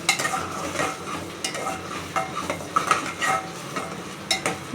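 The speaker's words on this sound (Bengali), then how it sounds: "বিরিয়ানির মশলাটা ভালো করে ভুনতে হবে" Biryani masala and chicken fry in a pan while being stirred, a crackling sizzle broken by repeated scraping strokes of a utensil against the pan, close and fairly loud, with no voices.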